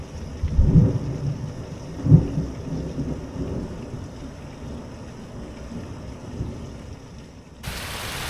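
A thunderstorm rolls in over a rural homestead with a chicken coop, two deep thunder rumbles early on over a steady wash of rain and wind.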